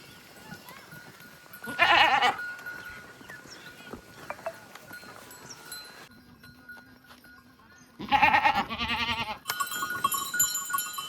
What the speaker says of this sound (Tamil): நான் பின்னாடி ரெண்டு ஆட்டை பிடிச்சிட்டு போகிறேன்